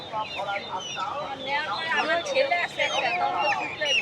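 Chickens cluck and squawk close by at a rural poultry market in Bangladesh, overlapping calls from several birds mixed with people talking nearby.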